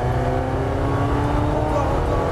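A loud race car engine holds a steady high roar, accelerating hard on the Circuit du Laquais track, with a dense continuous drone throughout.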